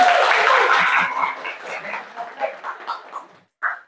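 An audience claps loudly at a religious speech event, the applause fading into scattered claps over a few seconds before a brief final burst.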